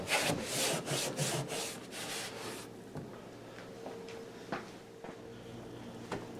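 Cloth wiping the underside of a kitchen exhaust fan hood during a deep clean, a few quick rhythmic rubbing strokes close by, then quieter scattered light scrapes and taps.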